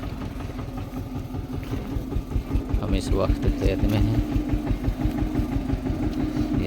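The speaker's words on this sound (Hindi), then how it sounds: "अब मुड़ेगा ट्रैक्टर, में आपको दिखाता हुए वो मुड़ रहा दिख रहा होगा आपको, मुड़ता हुआ धीरे धीरे" A tractor in a farm field chugs with a low, steady engine pulse, straining as it slowly turns, while someone talks over it close by.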